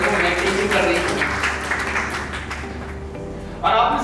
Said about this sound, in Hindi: प्लीज एक बार जोरदार तालियां हो जाए।